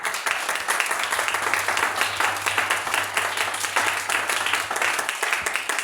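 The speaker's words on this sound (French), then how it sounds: "On peut acclamer ça." A church congregation applauds, with dense, steady clapping going on at even strength throughout and a low hum beneath.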